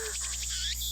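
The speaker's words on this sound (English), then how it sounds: "The only sound is the chirping of cicadas." Cicadas chirp in a quiet scene from the Steins;Gate video game, a short, faint, pulsing insect trill over a low steady background hum.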